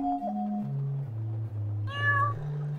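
A cat meows in a video game with a mechanical, industrial tone, a long low drawn-out cry followed by a brighter, higher call near the end, loud and close with no talking.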